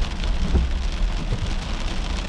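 Steady rain pours around a car in Texas City, a dense, even hiss of drops on the vehicle with low rumbling underneath, close and continuous throughout.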